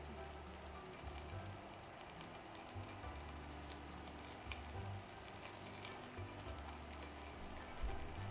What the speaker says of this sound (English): We're going to saute for about 2 minutes until the asparagus starts to soften.